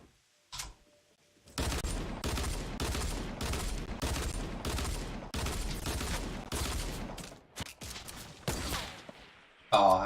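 Assault rifle fire in Fortnite rattles out in a long string of loud, evenly spaced shots, close and dominant, ending with a few scattered bursts.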